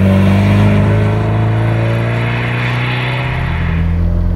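A 1978 Alfa Romeo Alfetta driving along, heard from inside: a steady loud engine drone with a deep low hum and road rumble, holding constant throughout with no talk.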